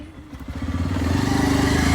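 A motorcycle engine putters close by, its low pulsing beat quickening and growing louder as it revs up over a couple of seconds.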